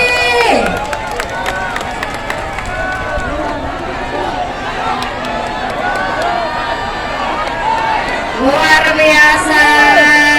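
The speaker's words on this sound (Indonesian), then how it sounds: "Luar biasa, tepuk tangan dong sekali lagi." A large crowd at a political gathering in Samarinda cheers and applauds in a loud, continuous roar, with excited shouts and voices rising over the din.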